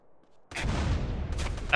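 A heavy cannon-like weapon fires in GTA San Andreas, a sudden loud boom that holds as a dense rumbling roar, with a sharper crack near the end.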